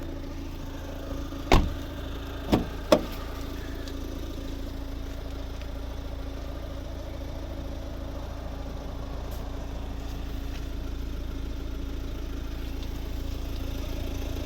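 A 2010 Volvo V50 R-Design with the 1.6 D2 diesel engine idles steadily with a low, even hum, heard from the exhaust end, and a few faint clicks and knocks appear early on. No one speaks.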